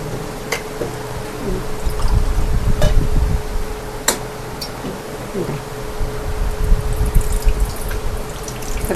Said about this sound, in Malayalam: അത് ഇച്ചിരി വെള്ളം ഒഴിച്ച് കാണിക്കാം